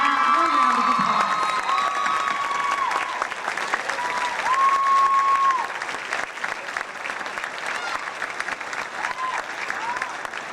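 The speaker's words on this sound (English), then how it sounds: "Please give her a warm round of applause." An audience at a school awards ceremony applauds at length in a large hall, with dense clapping, some cheers and whoops, and brief whistle-like tones partway through.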